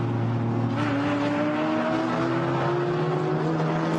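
GT4 race cars lapping the Nurburgring circuit during qualifying, engines whining at a distance with rising and falling pitch as cars pass and shift, no voices.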